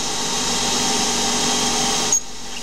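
CNC lathe with an air chuck machining a Delrin part with a parting tool, a steady close whine and hum of cutting that runs on evenly, then a short bump and a quieter tail near the end.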